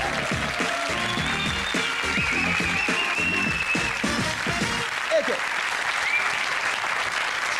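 Studio audience at a German daytime talk show applauding as the first guest walks on: dense, loud sustained clapping throughout, with a host's voice faintly over it.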